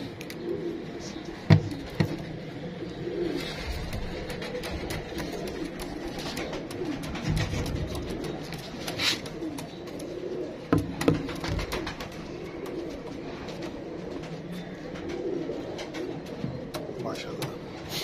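Pigeons, including a hen bird, coo softly in the background amid a low outdoor hum, with a few sharper clicks and rustles scattered through.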